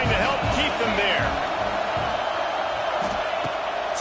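A football stadium crowd roars steadily as the home defense pins the opponent deep in their own end; the noise stays loud and even, with a voice speaking over it.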